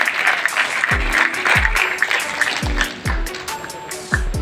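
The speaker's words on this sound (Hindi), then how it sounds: "जोरदार तालियां हो जाए।" Applause from the audience at a final parliamentary debate at Zakir Husain Delhi College, honouring the winners: a steady wash of clapping that runs throughout, with low thumping bursts breaking through at intervals.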